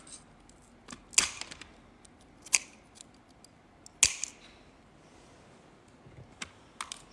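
Glass nippers snap through stained glass in a straight line, giving sharp, isolated crisp clicks and cracks at irregular intervals, fairly faint with quiet gaps between them.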